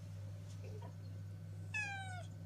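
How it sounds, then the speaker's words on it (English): A single short cat meow near the end, clear but fairly quiet, over a low steady electrical hum. "Pia, Pia, look, do meow."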